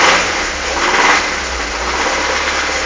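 A Chevrolet Monza engine revs hard and makes a strange noise, a loud, steady, rough roar that holds for the whole stretch without dropping away.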